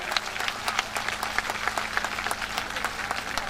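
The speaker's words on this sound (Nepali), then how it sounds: "सर्वशक्तिमान परमेश्वरलाई फेरि पनि एकपालि जोरदारले ताली बजाउनुहोस्" A congregation at a church fellowship gathering claps together in a dense, steady round of applause that carries at an even level from start to finish.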